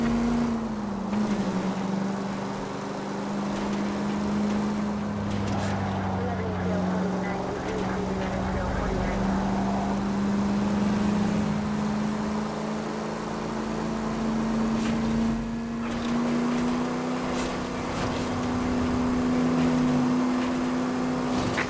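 Car driving in the 1940s Los Angeles crime game L.A. Noire, a steady engine drone that rises and falls in pitch throughout, with voices speaking over it.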